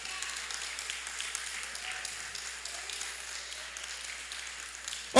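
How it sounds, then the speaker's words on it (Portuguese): Applause from an outdoor audience at a women's caravan event on Estrada do Rio carries steadily at moderate distance, a continuous wash of clapping that ends in a brief loud burst. "Você pode aplaudir pelo projeto que eles têm lá?"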